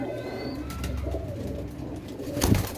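A pigeon kept by a pigeon fancier coos close and fairly loud, a continuous rolling call with a sharper thump of movement near the end.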